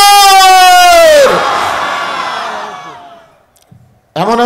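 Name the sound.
crowd shouting in response to a takbir call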